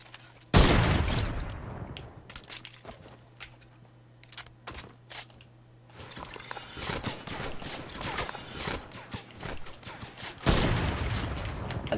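Gunfire in Fortnite on Nintendo Switch: a loud shot, then rapid bursts of shooting in clusters with quieter gaps, closing with a dense volley.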